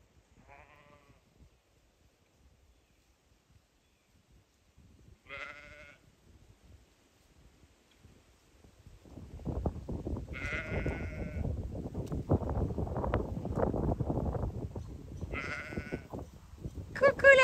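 Sheep bleat in short separate calls, a few seconds apart, over a growing rumble of machinery or wind noise in the second half.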